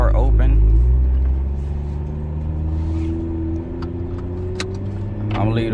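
Toyota Supra A91 with a newly installed aftermarket exhaust, valves open, droning a deep, steady engine rumble while driving, louder at first and then settling, with road noise and a voice speaking over it.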